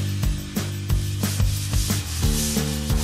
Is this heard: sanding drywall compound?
yes